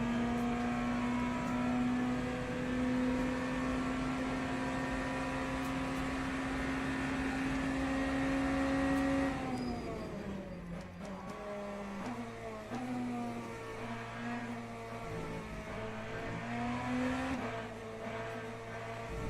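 A Lamborghini race car in a racing video game roars with a steady high engine note that holds, then drops and wavers as the car passes close by, with shifting pitch through the second half.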